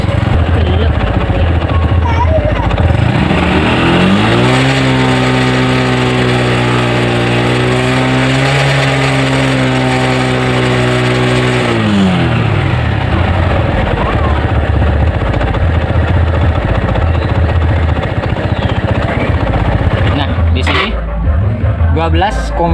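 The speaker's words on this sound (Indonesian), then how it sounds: "Saya coba tarik gas." The engine of a Honda Revo motorcycle with a charging-system fault is revved with the throttle, rising from idle to a held high whine and settling back. It runs close and loud, with a few clicks near the end.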